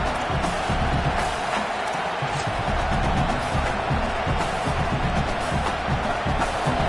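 Stadium crowd roaring continuously in an NCAA college football video game as a field goal unit takes the field, a dense steady wash of massed voices and noise with no single voice standing out.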